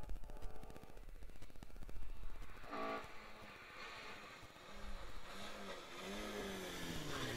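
A Ford Escort rally car driven by Mark James and David Lloyd passes through the Curragh stage of the Pokerstars Rally, its engine revving and changing gear in sharp bursts as it approaches and moves off, heard from the roadside.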